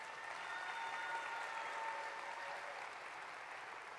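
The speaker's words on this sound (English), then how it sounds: "round of applause" An audience at an award ceremony applauds steadily, a dense even wash of clapping from a room of people that holds at a constant level throughout.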